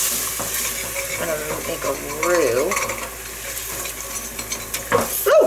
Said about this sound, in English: I'm gonna saute it like this